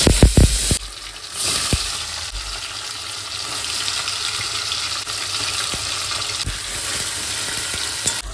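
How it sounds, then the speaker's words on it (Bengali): Paneer fries in a pan with a steady, full hiss of sizzling oil, preceded by a few sharp clatters at the start and a scattering of small clicks. "পনিরগুলো ভেজে নেবো।"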